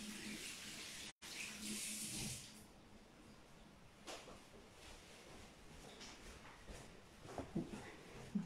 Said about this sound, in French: je vais vite aller me laver les mains